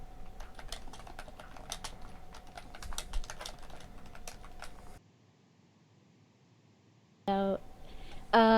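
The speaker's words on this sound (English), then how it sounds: "Anthony, stop typing" Rapid clicking of typing on a computer keyboard for about five seconds, fairly close, followed by near silence and then brief unrelated sounds.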